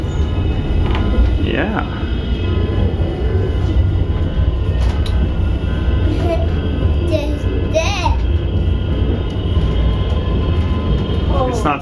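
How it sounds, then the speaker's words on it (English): A freight train rolls past at Horseshoe Curve, a steady loud rumble and rattle of rail cars filling the whole stretch with brief squeals on top, while a child and an adult speak briefly nearby. "that's a freight train"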